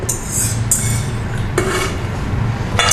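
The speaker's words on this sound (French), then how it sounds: "On coule le tout dans le siphon." Strawberry soup mixture poured into a metal cream siphon, with a few clear metallic clinks and knocks over a soft continuous pour, heard close up without talk.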